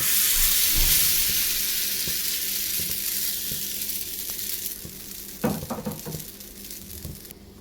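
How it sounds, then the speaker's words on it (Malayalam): Bun dosa batter sizzling in a hot oiled pan, a loud steady frying hiss at first that gradually fades, followed by a few close scraping and tapping sounds of a spatula. "പാത്രം ചൂടായിട്ടുണ്ട്. നമുക്കതിലേക്ക് മാവ് ഒഴിച്ചു കൊടുക്കാം."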